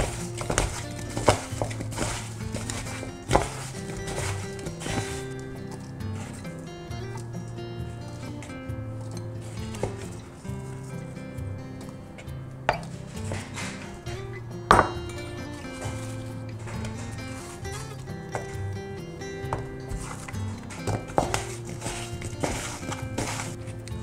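Apple cake batter being mixed in a bowl for soft Swedish apple squares, giving repeated clinks and scrapes of utensil against the bowl in an uneven rhythm, close and moderately loud, with no talking.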